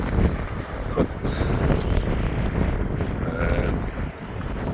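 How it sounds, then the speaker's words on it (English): Gusty wind buffets a fishing pier at Middleton, a steady broadband roar with surges that fill the clip, loud and near, with no talking over it. "The wind's picked up."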